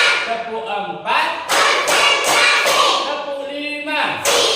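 A classroom of children claps in short counted bursts of sharp slaps and thuds, with voices chanting between the rounds.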